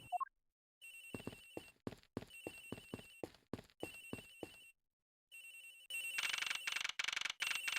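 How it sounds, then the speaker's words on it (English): Telephone ringing in a detective video game, a repeated electronic ring in quick bursts with short pauses, then a louder, denser ringing stretch at the end; no talk. "Agent Hicks's phones! It's ringing from somewhere, sir."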